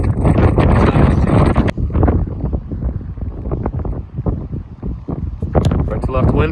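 A strong 20-25 mph crosswind sweeps a football field during field goal and kickoff practice, roaring and buffeting the microphone in heavy gusts the whole time, with a voice talking over it.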